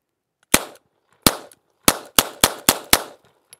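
A Walther PPK pistol fires .32 ACP rounds, seven sharp loud shots in all: two well spaced at first, then five in quicker succession, each crack followed by a short ringing decay.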